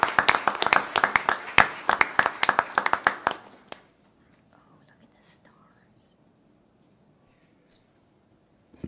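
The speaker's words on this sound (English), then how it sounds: "All right, if you could please put your hands together for Pearson." Audience at a school board of education meeting clapping for a student, a few seconds of fairly close, uneven claps that stop abruptly and give way to near silence with faint room noise.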